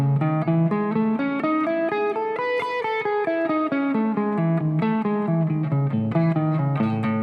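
Electric guitar picking a quick melodic line of single notes with downstrokes, two notes per string, steady and continuous, slightly distorted tone, no voices.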